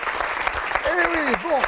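A studio audience claps for author Dominique Lancastre on a Guyane television show, a short burst of moderate applause with a voice speaking over it partway through.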